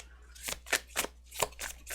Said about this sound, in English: But that is just how I shuffle.